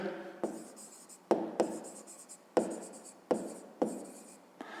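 Pen or chalk writing numbers by hand in a fifth-grade maths lesson, a series of short scratchy strokes with sharp taps at each new figure, close and fairly quiet with no voice.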